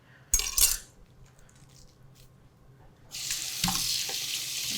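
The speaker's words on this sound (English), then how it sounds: "the corn is to just give them a quick rinse" Corn rinsed under a running kitchen tap: a brief clatter in the sink, then a quiet pause, and finally a steady, fairly close rush of running water.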